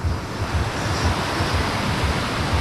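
Steady roar of ocean surf at a surfing competition, with rolling low rumbles of breaking waves, mixed with wind buffeting the microphone; no voices.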